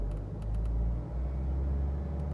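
BMW E91 330d with the M57 diesel engine, idling then briefly revved, giving a steady close low rumble with a slight rise and dip in engine note; no talking.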